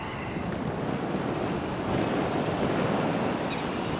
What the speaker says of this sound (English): so it's really windy here